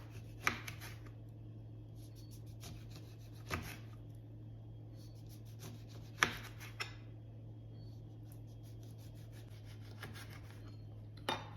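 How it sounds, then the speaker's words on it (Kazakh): A knife finely chops lemon, scattered sharp taps and soft scraping strokes at irregular intervals, close but faint over a steady low hum. "Барлығын жақсылап ұсақтап турап алдық."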